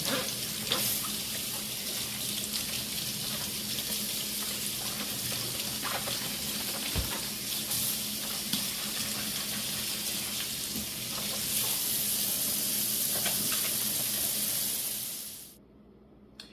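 Kitchen tap water runs steadily while cabbage is washed again for fermenting, a continuous close splashing rush that holds on, then stops abruptly near the end.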